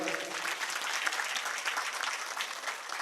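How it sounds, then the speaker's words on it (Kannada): An audience applauds loudly and continuously, a dense, even wash of many hands clapping throughout, with faint crowd murmur beneath. "ಎಲ್ಲ ಹೆಣ್ಮಕ್ಳಿಗೆ ಒಂದ್ಸಲ ಜೋರಾದ ಚಪ್ಪಾಳೆ ಇರಲಿ."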